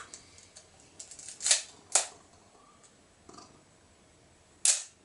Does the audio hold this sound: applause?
no